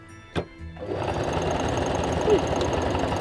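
A sewing machine stitching fabric for a pastel ghost Halloween costume: a sharp click, then a close, continuous rapid mechanical whir that starts about a second in and runs steadily to the end.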